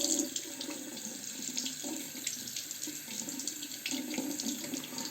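A water tap runs steadily, splashing as a safety razor is rinsed under it after shaving with thick lather, close and continuous with no talking.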